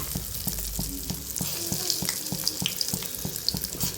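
Egg and onion omelette mixture frying in hot oil in a pan, a steady close sizzle and crackle with faint stirring clatter and no talk.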